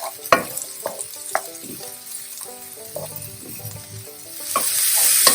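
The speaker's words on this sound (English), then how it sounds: "Next goes green capsicum. Fry it with the onion." Green capsicum and onion frying together in a pan for veg hakka noodles, a steady close sizzle broken by sharp scrapes and clinks of a spatula stirring, growing louder and hissier toward the end.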